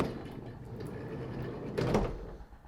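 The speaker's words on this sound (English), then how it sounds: "Side loading door." A side loading sliding door on a 2016 Vauxhall Vivaro 1.6 CDTi ecoFLEX van rolls along its track with a low rumble, ending in a sharp clunk near the close.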